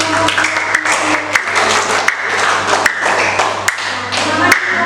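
Grade-five primary school pupils clap for a classmate in an Indonesian classroom, a lively patter of hands with sharper individual smacks standing out, over a steady low hum.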